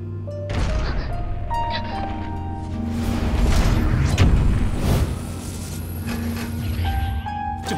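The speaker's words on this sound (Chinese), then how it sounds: "快要爆炸了" Explosions in the animated series Collapse Galaxy rumble and crash over several seconds, with heavy booms swelling in the middle over dramatic background music.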